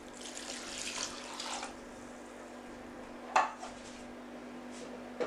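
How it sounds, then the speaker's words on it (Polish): Water, 400 ml of it, runs into a mixing bowl holding crumbled yeast for onion bread dough, a faint splashing pour followed by a sharp clink of the bowl or dish. "Do tego wodę 400 ml."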